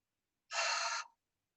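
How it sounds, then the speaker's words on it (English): A single sharp, breathy inhalation during a vocal breathing exercise, a short airy gasp lasting about half a second, close and clear against silence. "inhale as you bring your arms up. Exhale."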